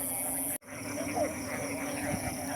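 Frogs in a rice field call steadily through a dense nighttime chorus of croaks and insect buzz, with a brief dropout near the start.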